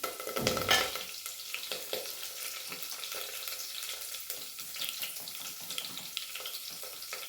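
Chopped garlic, two whole chillies, three cloves and curry leaves dropped into hot oil while making valni dal, a loud initial splash settling into a steady close sizzle with light stirring.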